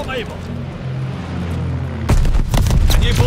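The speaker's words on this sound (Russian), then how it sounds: "Там все что-то взрывается, все что-то происходит непонятное." Explosions and gunfire in Call of Duty: Vanguard: a steady rumbling battle din that erupts into heavier, louder blasts and bursts partway through, under a continuous game soundtrack.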